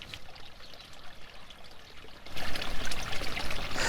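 Water runs along a garden stream, starting as a soft, distant trickle and then swelling into a louder, close, splashing pour over the last second and a half.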